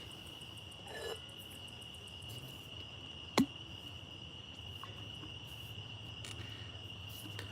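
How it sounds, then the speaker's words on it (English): Crickets chirp at night outdoors, a steady continuous high trill under a quiet background, with a single brief sharp click midway. "So now you just hear the crickets instead."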